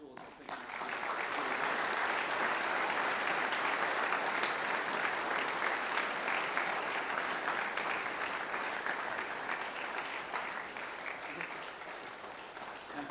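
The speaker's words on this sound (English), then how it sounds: "A round of applause, I think." A long, steady round of applause fills a school Foundation Day assembly hall for visiting old boys, dense clapping from a large audience that holds strong throughout before tapering slightly near the end.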